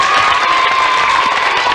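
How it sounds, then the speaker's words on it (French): A studio audience at a French children's TV game show applauds and cheers the contestants, a dense, loud wash of clapping and shrill young voices filling the whole moment without pause. "On les applaudit encore."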